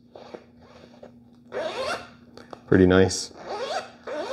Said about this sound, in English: you can zip and unzip it